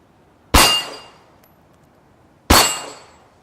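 A handgun fired twice, two seconds apart, each a sharp, loud, close crack with a ringing metallic tail that fades quickly, quiet in between, no talk.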